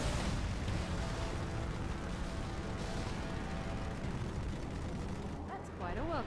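Dense, continuous gunfire and explosions from a Halo 2 battle roar loud and unbroken, with a voice talking briefly near the end.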